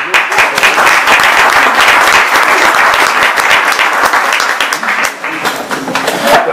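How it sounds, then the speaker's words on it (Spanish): Friends at a book presentation give a sustained round of applause: dense crowd clapping runs steadily throughout, easing slightly near the end before swelling again. "quiero dar un aplauso a mi amigo"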